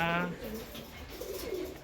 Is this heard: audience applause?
no